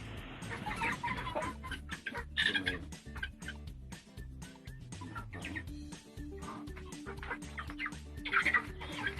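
Young pure Shamo chickens, about four months old, cluck and call continuously at close range on a rural Philippine farm, with dense overlapping clucks and fowl noises throughout and no talking.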